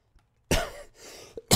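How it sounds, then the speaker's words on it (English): A person with a bad cough gives two harsh, loud coughs separated by a brief breathy pause, starting a third at the end, close to the microphone. "I've got a bit of a bad cough."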